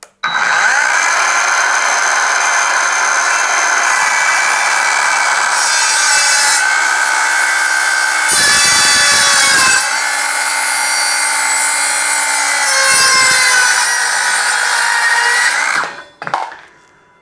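An Evolution R165CCS-Li 18V cordless circular saw with a 165mm blade cuts through 4x2 timber with screws in it, a loud, close, sustained whine lasting around sixteen seconds, its pitch dipping as the blade loads and then spinning down.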